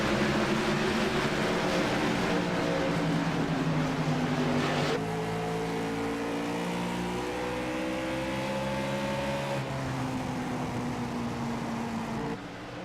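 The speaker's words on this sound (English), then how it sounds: "here come the cars again. Vroom vroom goes the cars" Race cars in an Xfinity Series round at Bristol roar past in a continuous engine drone whose pitch climbs and dips as they pass, steady and fairly loud with no voices.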